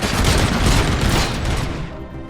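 Machine gun fire in the video game RoboCop: Rogue City: loud, rapid overlapping bursts of automatic shots with heavy booms that thin out and fade near the end.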